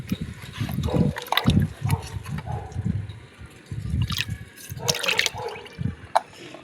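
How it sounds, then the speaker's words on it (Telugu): Water is poured and splashed in uneven bursts while mixing jeevamrutham, an organic plant tonic. The gurgling, sloshing pulses are moderately close and come with brief pauses between them. No voices are heard. "ఇప్పుడు ఇందులో మూడు లీటర్లు పోసుకోవాలన్నమాట"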